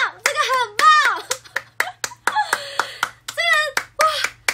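Rapid, energetic hand clapping during a variety-show judging segment, sharp claps in quick bursts interleaved with excited speech.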